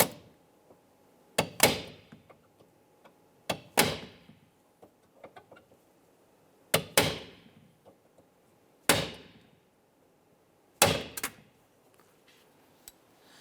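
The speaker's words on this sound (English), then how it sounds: "Go right on the center and just give it a quick tap." A center punch is struck sharply to mark rivet centers on a 1995-2001 Ford Explorer door during a power window motor replacement, giving several loud isolated metallic taps spaced a second or two apart in a quiet workshop.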